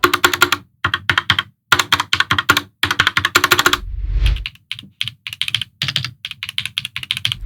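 Someone types on a OnePlus x Keychron Keyboard 81 Pro mechanical keyboard in short bursts of crisp, clacky keystrokes separated by brief pauses, with one deeper thud partway through.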